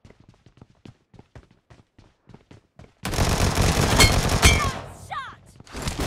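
Dense burst of automatic gunfire in PUBG Mobile, loud and rapid after a stretch of quieter sparse taps and thuds, with a few short chirping tones near the end.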